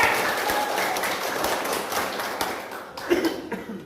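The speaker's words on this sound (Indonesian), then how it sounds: "Tepuk tangan untuk warga kita semua." Audience applause at an RW 04 neighbourhood chief candidates' vision and mission speech, a steady crowd clapping that fades out toward the end, with faint voices mixed in.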